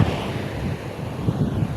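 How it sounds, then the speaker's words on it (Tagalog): Strong waves surge onto a sandy beach in a steady, loud wash, with wind buffeting the microphone throughout and no voices. "Bro, ang lalakas ng alon."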